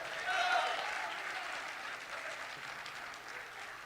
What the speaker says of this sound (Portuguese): se tiver alguém para aplaudir o nome de Jesus, aplauda ele o mais alto que você puder